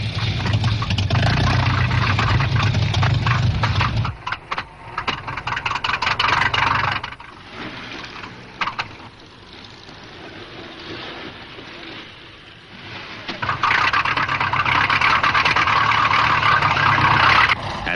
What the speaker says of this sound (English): To economize the limited fuel, cars are started at the last moment.